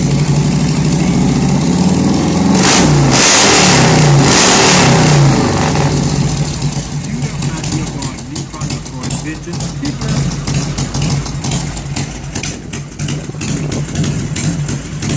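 A Harley-Davidson motorcycle engine revs loudly up close, with a deep throbbing idle between throttle blips, and a voice talks over parts of it.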